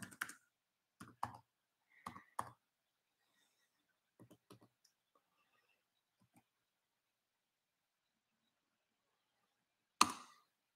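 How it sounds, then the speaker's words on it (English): Computer keyboard typing in a few short bursts of clicks, with a single sharper tap near the end; close and fairly quiet in an otherwise silent room. "I'll go ahead and type it here too for you"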